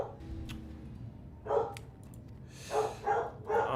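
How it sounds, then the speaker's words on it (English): A dog in the Final Fantasy XIV game barks several times in short bursts, audible over faint background ambience and low game music. "They heard a dog bark."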